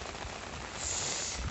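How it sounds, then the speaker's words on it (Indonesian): Rain falls on a Toyota Sienta campervan at Ranca Upas campsite, a dense, steady patter that grows slightly heavier partway through, close and without talking. "Hujan ini di Ranca Upas."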